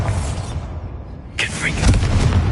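A Bombarda spell goes off in Hogwarts Legacy inside a closed-off mine, a sudden broad blast with a low rumbling thump following it. Voices are present around it.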